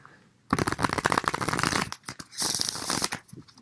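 Close, loud riffling of tarot cards being shuffled, two long bursts of rapid flapping separated by a brief pause.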